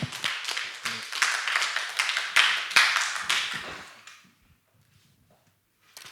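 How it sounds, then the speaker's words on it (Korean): A church congregation applauds to welcome a young speaker, a dense burst of clapping that lasts about four seconds and then fades into near silence. "우리 박수로 맞이했으면 좋겠습니다."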